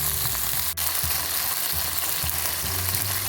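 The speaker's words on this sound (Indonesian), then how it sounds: "Aduk-aduk dulu" Vegetables, oyong (luffa gourd) with anchovies and petai beans, are stirred in a frying pan after water is added, giving a loud continuous sizzle. Soft scraping strokes repeat roughly every half second, with no talking.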